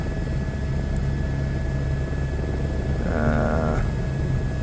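A helicopter in Microsoft Flight Simulator 2024 hums with a steady, loud engine and rotor drone and a low rhythmic throb, flying over Paris, with a brief tonal whine swelling near the end.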